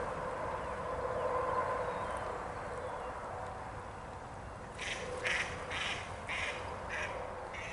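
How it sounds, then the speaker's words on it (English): Ducks quack faintly in the distance at an outdoor camp. A few short bursts come in the second half over a steady bed of wind and outdoor noise. "ducks."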